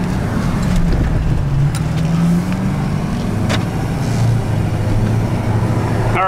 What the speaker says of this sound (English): just driving the truck home now